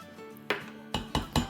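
Metallic clinks of a spoon against the inner pot of an Instant Pot while batter is stirred into nihari, four or five distinct close knocks over a low background.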